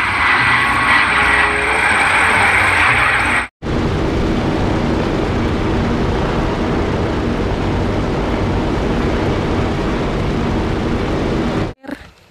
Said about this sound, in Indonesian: Wow, ada pesawat tempur militer.